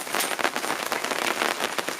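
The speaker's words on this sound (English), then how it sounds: "Well, it's raining again. Actually, we've got small hail coming down." Rain mixed with small hail falls in the mountains, making a dense, steady hiss of fine patter with scattered sharper ticks, close and continuous, with no voices.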